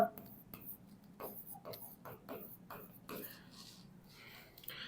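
A pen writes on paper while an accounting journal entry is noted down, giving soft, close scratching strokes in short irregular bursts, quiet and intermittent, with a person speaking at moments.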